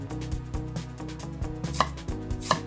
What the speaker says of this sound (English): Peel a medium-sized onion and finely dice it.